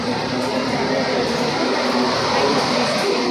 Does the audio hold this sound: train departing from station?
yes